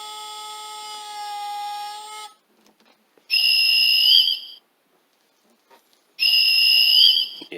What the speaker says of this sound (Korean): 기적 소리,